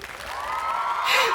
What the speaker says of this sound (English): the applause is not necessary, but welcomed